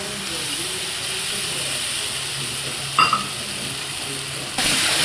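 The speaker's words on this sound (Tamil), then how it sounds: "இப்போ இஞ்சி பூண்டு பேஸ்ட்டு போட போவோம்" Ginger garlic paste and tomatoes fry for a chicken curry, giving a loud, steady sizzling hiss with a brief clatter of stirring midway and a brighter surge near the end.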